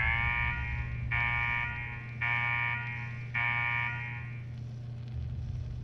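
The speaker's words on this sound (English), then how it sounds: "What the hell is that alarm?" Electronic alarm blares in the Fallout 4 video game, sounding in four repeated long pulses with short gaps, loud and harsh over a steady low hum and no talking.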